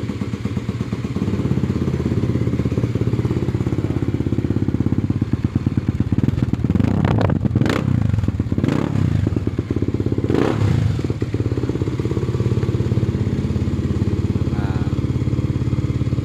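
A Kawasaki KLX 250 supermoto engine bored up to 300cc idles loudly and steadily up close, with a few brief revs and mechanical clatter rising over the continuous rumble.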